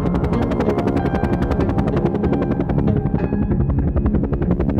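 A cartoon helicopter flies with a loud, steady rotor chop, rapid regular beats pulsing throughout the five seconds with no voices over it.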